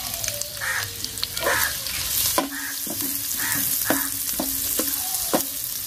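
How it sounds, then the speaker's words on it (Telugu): Finely chopped onions sizzle in plenty of hot oil with a few fenugreek seeds, a steady crackling hiss for a village-style fish curry, broken by repeated scraping stirs of a ladle against the pan. "సన్నగా తరిగిన ఉల్లిపాయ ముక్కలు వేసుకున్నాం"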